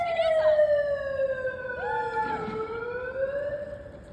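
A wailing megaphone siren sweeps slowly downward in pitch, loud and electronic, rising and dipping once in the middle, with faint crowd noise underneath.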